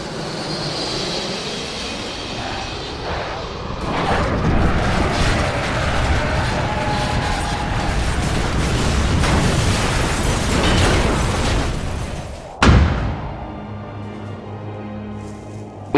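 A spaceship crashes in a Star Wars story scene: a long, loud rumbling roar of impacts and debris builds over many seconds, then a sharp crash near the end gives way to a quieter tonal hum.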